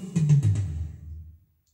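A short drum fill: several quick, punchy hits in a rapid burst, then a low boom that rumbles and fades to silence.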